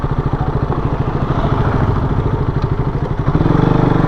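A motorcycle slowing down with the throttle shut while the clutch and brake are eased in, its engine putting out a steady close, rhythmic chug that shifts to a lower, heavier idle near the end.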